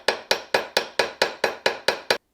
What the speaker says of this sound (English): So we're going to just keep hammering where we were.